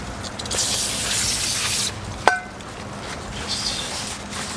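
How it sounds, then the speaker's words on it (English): Cleaning a Honda Nighthawk motorcycle's filthy brake rotor: a steady hiss of spray runs for about two seconds, followed by a sharp click, then softer intermittent spraying close by. "Let's start off with cleaning the rotor real quick."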